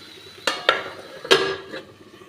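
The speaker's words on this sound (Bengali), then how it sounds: "দেখুন আমি আবার ঢাকাটা খুলে দিলাম" A metal lid lifted off a cooking pot of pumpkin curry on a gas stove, giving a few sharp clinks and clatters in quick succession, close and clear in an otherwise quiet kitchen.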